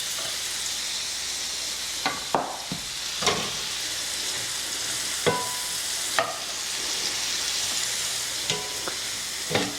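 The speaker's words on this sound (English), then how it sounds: "I'm going to coat the onions with butter" Onions frying in butter in a pot for New Orleans–style red beans, a steady loud sizzle with repeated scraping stirs and utensil knocks every second or so, no talk.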